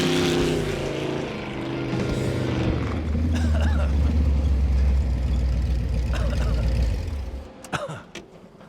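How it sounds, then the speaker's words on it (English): VW wagon fitted with a Studebaker face, its exhaust roaring loud and close in a sustained low rumble that rises, holds, then drops away near the end. "The sound of the exhaust right there in stereo, pure adrenaline rush."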